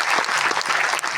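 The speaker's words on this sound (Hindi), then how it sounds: "तो ताली हो जाए इस बात पे।" Audience applause fills a direct-selling business meeting in Banaras, a dense, steady burst of many hands clapping close by with no talk over it.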